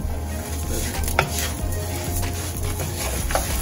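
Seasoned rice being stirred in a pot, with steady scraping and clinking of a utensil against the pot and faint sizzling from a nearby pan, close and continuous with no talk.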